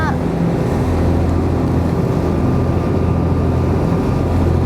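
The boat Hachinohe Maru passes on the water, a steady low engine drone heard nearby under constant rumbling wind buffeting.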